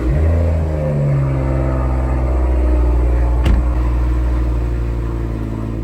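A modified 800 hp Nissan 350Z engine idles with a deep, throaty rumble, close and steady, with a brief sharp click partway through.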